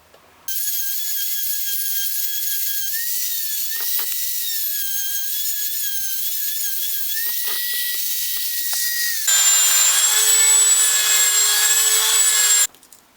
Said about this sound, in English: Now I'm transferring to a sanding drum.